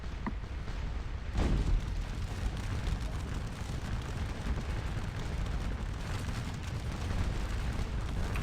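Distant booming fire from an artillery park in a Waterloo battle video game, a dense rolling rumble with a heavier thud near the start and continuous low explosions throughout.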